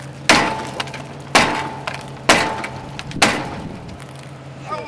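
Four heavy metallic hammer whacks on a car part land about a second apart, each a sharp bang with a short ringing decay, under a steady low engine hum.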